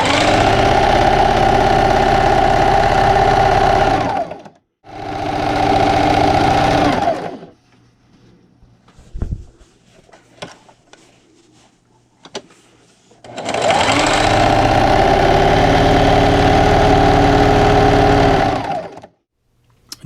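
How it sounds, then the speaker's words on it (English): A sewing machine runs a straight stitch on a dinner plate cozy in three loud, steady whirring bursts, separated by quiet pauses filled with faint handling clicks and fabric rustles. "I'll be using a straight stitch. Like I said, there's no need to backstitch at this point. And just keep sewing."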